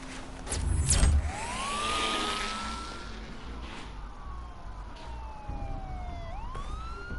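Police car sirens wail in Batman: The Telltale Series, rising and falling tones sweeping over a low rumble, with a loud burst near the start and more sirens gliding in later.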